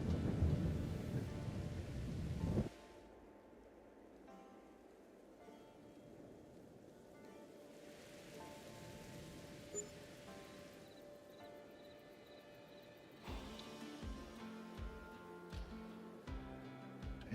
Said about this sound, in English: can't really do much in the rain